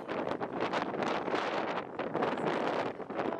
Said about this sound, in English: So this is Chapo the next day in the wind in the Costa Brava